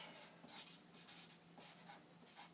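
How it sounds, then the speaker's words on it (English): Pen writing on a piece of paper, a faint, quiet scratching with repeated short strokes running continuously and alone. "I'm going to write"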